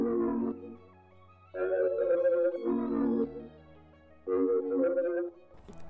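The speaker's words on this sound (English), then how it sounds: "So what I did is first I got this synth." Distorted synth sample from a producer's sample kit, built for dark vintage-style hip-hop beats, plays as sustained, gritty chord stabs in three loud swells separated by quieter held tones, alone with no voices.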